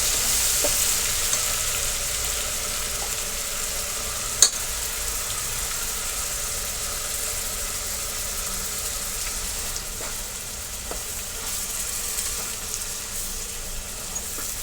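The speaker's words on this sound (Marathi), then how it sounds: "हे देखील मी व्यवस्थित परतून घेणार आहे याच्यामध्ये" Wet ground masala paste fries in oil for a Kolhapuri mutton rassa, giving a continuous moderate sizzle with occasional scraping stirs and one sharp clink.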